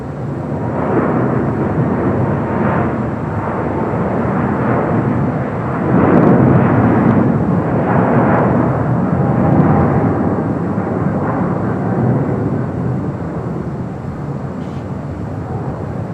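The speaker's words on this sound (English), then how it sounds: "EVA Air, the 777-300ER, now rolling down at 25 right." An EVA Air Boeing 777-300ER roars down runway 25 right at LAX on its takeoff roll, a loud, steady, broadband jet rumble that swells around the middle and then eases slightly as it carries on.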